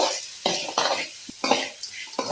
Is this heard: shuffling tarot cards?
no